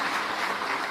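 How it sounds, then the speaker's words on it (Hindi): An audience at a Shiv Mahapuran katha gathering claps loudly, a brief dense burst of applause lasting under a second. "एक बार जोरदार ताली बजाकर"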